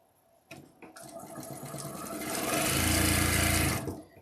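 Sewing machine chain piecing quilt fabric, starting with a few short stitching bursts, then running in a loud, steady, continuous whir for over a second before stopping.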